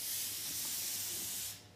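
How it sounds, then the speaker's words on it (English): An airbrush spraying thinned lacquer paint gives a steady, close, fine hiss that runs evenly for over a second before cutting off, with no talking. "This is spraying much nicer now, just because I thinned the paint."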